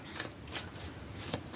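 Tarot cards being shuffled by hand, a brief, quiet riffling flutter with a few soft bursts, close and alone without talk.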